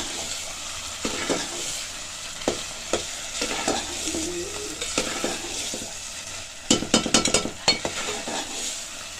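Ghee tempering sizzles on Punjabi sarson ka saag as a spoon stirs and scrapes through the pot, with soft frying hiss under irregular clinks that quicken into a brisk burst of stirring near the end.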